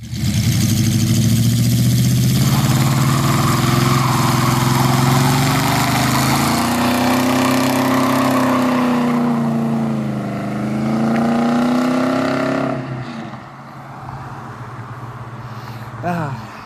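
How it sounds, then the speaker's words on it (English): An AMC Hornet car at a drag racing event holds a loud, steady engine roar with rising and falling pitch as it revs through a burnout, then drops off toward a quieter idle near the end. "you might get a Hornet burnout right after this"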